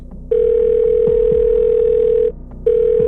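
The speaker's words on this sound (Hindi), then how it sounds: "लिप्सा ने अपना फोन देखा, फिर टिया को कॉल किया।" A phone call's ringback tone sounds as a steady, loud electronic beep that holds for about two seconds, breaks off briefly, then starts again, with no talking.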